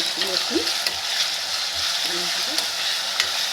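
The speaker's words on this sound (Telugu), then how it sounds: "కలుపుకొని పచ్చివాసన పోయేంత కలుపుకోవాలి" A loud, dense hiss of ginger, garlic and green chilli paste frying in hot oil in a pan, sizzling continuously and close up, with faint scrapes as it is stirred.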